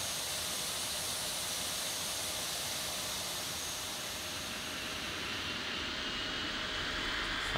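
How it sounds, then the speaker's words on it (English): A loud, steady broadband jet roar from an aircraft engine spooling up for takeoff in Tower Simulator 3, set at Lisbon airport, holding constant throughout with a hissing texture. "Listen to the roar of that engine."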